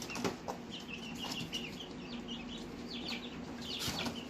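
Chickens cluck and chirp in a backyard flock, with occasional bursts of wing flapping, several birds fairly close and quiet against a steady low hum, no voices present.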